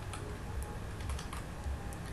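Steady computer keyboard typing, a continuous patter of small clicks at close range with a faint room hiss and no talking.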